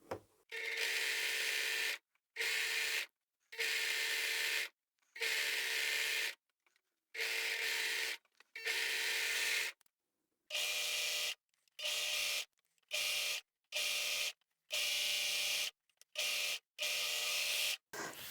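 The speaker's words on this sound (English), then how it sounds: "We'll go and overlock the bottom edge of these 2." An overlocker serging the bottom edge of a single layer of fabric for a beanie cap runs in a series of about a dozen short, steady mechanical bursts separated by brief silences, close and clear.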